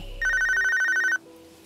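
A telephone rings with one bright electronic trill burst, loud and close, then cuts off into quiet.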